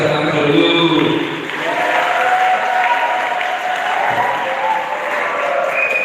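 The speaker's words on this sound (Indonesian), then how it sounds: "Tepuk tangan untuk kesehatan dulu." A classroom audience of high school students at an Indonesian school applauds, a loud, dense burst of clapping with voices mixed in and a few tonal elements underneath, sustained at a fairly even level.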